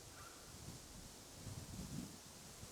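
Wind moves through birch trees near a cottage, a faint, soft rustling with gentle gusts swelling and easing, distant and low, no voices.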